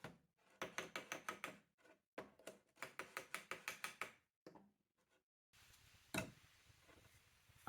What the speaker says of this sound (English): Tapping with the spoon.